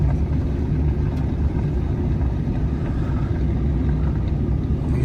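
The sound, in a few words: farm tractor engine running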